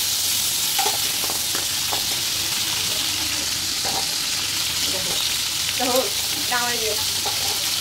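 Local crab fries in a pan, producing a loud, constant, close-up sizzle with occasional stirring scrapes, while a voice speaks faintly in the background.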